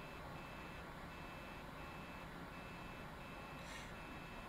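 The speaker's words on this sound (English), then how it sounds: "That's my warning for my gear." A landing gear warning in an F-86 Sabre flight simulator repeats as a thin, steady electronic beep in regular pulses, faint under a constant wash of cockpit and engine noise.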